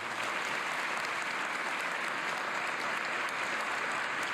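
Dense, steady audience applause fills an investiture ceremony hall, a continuous even wash of many hands clapping at full strength throughout.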